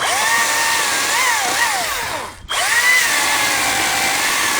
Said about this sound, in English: You guys told me to work all day with this battery saw.